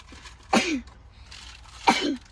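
Two sharp sneezes about a second and a half apart, close and loud against a quiet room.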